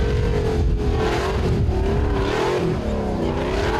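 A stock B-class 4x4 trials truck without steering brakes revs hard and close, its engine note rising and wavering continuously through the whole stretch at a loud, steady level.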